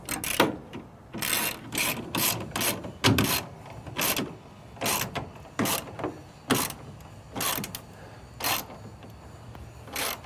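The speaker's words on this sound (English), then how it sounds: "I'm gonna tighten the back bolt." A hand wrench tightening the rear bolt on a Spyder Industries headache rack fitted to a truck: a steady series of short, crisp ratcheting clicks in bursts, close up and with no talking.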